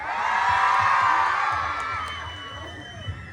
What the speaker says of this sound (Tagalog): Wala po bang mas malakas na hiyawan dyan?